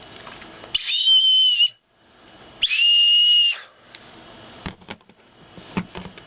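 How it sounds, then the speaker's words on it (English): A SOL Phoenix survival multi-tool whistle is blown twice, each a loud, shrill, steady blast of about a second, with quiet clicks and handling noises afterward. "The whistles are about the same."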